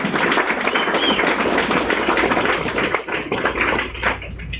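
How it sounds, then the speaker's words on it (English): Audience applause at a John Lydon Q&A at The Strand, sustained dense clapping from a packed room that thins slightly toward the end. "So if you clap longer"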